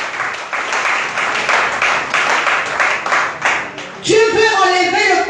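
Congregation applauding during a church service, a steady broadband wash of many hands clapping throughout, joined near the end by a louder voice and music-like tones.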